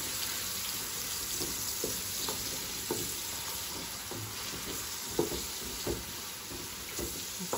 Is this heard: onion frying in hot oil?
yes